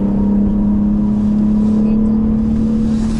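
BMW 8 Series engine humming steadily from inside the cabin while driving and shifting gears, a loud, constant low drone with a smooth tone.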